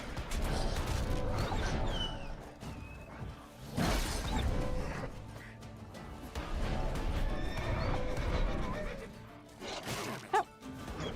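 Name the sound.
horse Roach neighing and galloping, from a video game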